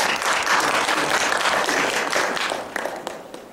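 An audience at a keynote lecture at Choonhae College of Health Sciences breaks into sustained applause, a dense wash of many hands clapping that tapers slightly toward the end, with no speech over it.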